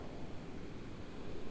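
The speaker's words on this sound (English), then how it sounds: "check out the waves, watch them crash, hear the ocean" Ocean surf at Newport–Balboa Beach washes in as a steady, continuous roar of breaking waves blended with wind noise, moderately quiet and with no voices present.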